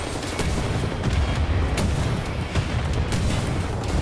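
Missile explosions in Wolfenstein: The New Order make a dense, continuous roar of blasts and booms, with sharp bursts punctuating the rumbling wall of sound and no talking.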